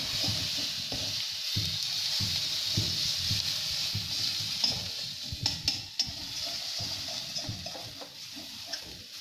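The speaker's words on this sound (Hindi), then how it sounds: "देखिए अच्छे से मसाला भुन रहा है" Spice masala for a cauliflower curry frying in a pan, a steady close sizzle with repeated stirring scrapes and soft clinks of the utensil against the pan, no voices.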